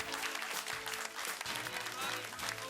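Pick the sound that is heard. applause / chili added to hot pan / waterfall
applause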